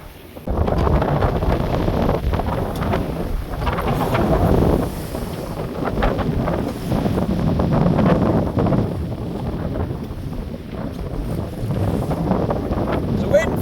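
Strong wind at sea aboard a sailing boat off the Scottish coast between Peterhead and Stonehaven, a loud steady roar buffeting the microphone with rushing water and hull noise beneath, continuous and near throughout.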